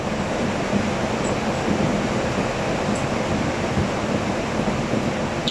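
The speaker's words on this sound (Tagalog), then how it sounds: "Lakas ng ulan." Heavy rain falling steadily, a loud dense continuous wash of noise with no breaks, no talk.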